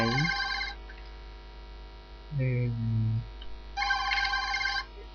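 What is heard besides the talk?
telephone ringing in horror video game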